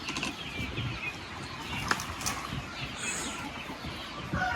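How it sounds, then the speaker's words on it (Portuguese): Laying hens cluck and murmur together in a henhouse, a continuous busy chatter of soft, overlapping calls close by with a few sharper notes, no talk. "As outras galinhas estão aqui. As galinhas estão aqui. As botadeiras."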